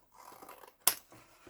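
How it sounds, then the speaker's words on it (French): Scissors, straight or pinking shears, cut paper for scrapbooking. There is quiet handling, then one sharp, close snip. "Alors, vous coupez avec des ciseaux cranteurs, avec des ciseaux droits, comme vous voulez."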